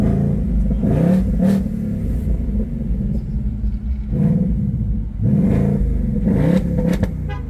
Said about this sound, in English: you can actually start it and rev it from a distance